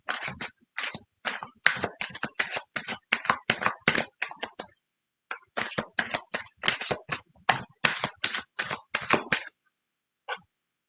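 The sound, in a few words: shuffling tarot cards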